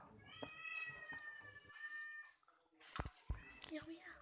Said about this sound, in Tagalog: patuloy pa rin ang bakbakan ng dalawang pusa at ng isang Kuligong